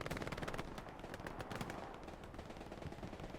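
Sustained machine gun fire in the Hell Let Loose video game, a dense, loud crackle of rapid shots with overlapping bursts and sharp reports running the whole stretch without pause.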